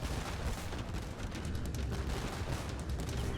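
Organ guns pounding a town center in a real-time strategy game, a dense, steady rattle of distant gunfire and impacts with no clear breaks and no talking.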